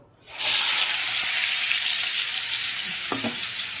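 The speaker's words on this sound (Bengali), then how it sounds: "তেলের মধ্যে আমি আলুটা ভেজে নেব" Potatoes fry in hot oil for ghugni, a steady loud sizzle that bursts in and holds throughout, with a few faint clinks near the end and no talk.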